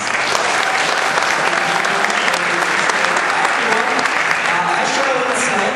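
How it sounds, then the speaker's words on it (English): Convention audience at a manga industry panel bursts into dense, sustained applause, a loud even wash of many hands lasting several seconds, with faint voices mixed in. "give this guy a huge round of applause"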